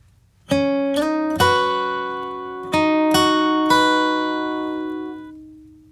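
Flatpicked acoustic guitar plays a short melodic phrase from a song, single notes and a slide ringing out clearly, played alone at a moderate pace.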